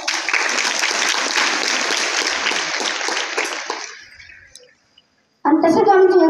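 An audience at an Ashadhi Ekadashi ringan and sermon gathering claps loudly in dense sustained applause that tapers off after about four seconds, followed by a brief pause before a voice starts speaking.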